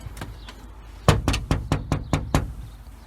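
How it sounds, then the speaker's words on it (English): Knuckles rap on a house door in a quick series of about seven crisp, close knocks after a faint earlier tap, with quiet room ambience around them. "Don't see a bell, so I'll just do a courtesy knock."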